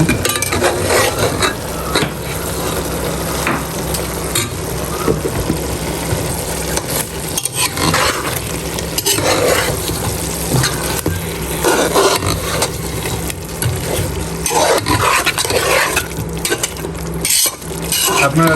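Cumin and homemade garam masala powder are stirred in a pan, with continuous scraping and clattering against the metal over a constant low hum and some loud knocks.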